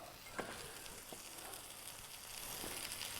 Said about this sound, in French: Donc là, mes oignons sont en train de bien caraméliser